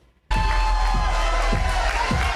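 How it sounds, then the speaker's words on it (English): A crowd of Spurs fans roars and cheers at a watch party at River North Ice House in San Antonio. After a brief quiet start, the dense, loud crowd noise holds steady and close throughout. "There was chanting, cheering, and lots of celebrating at River North Ice House."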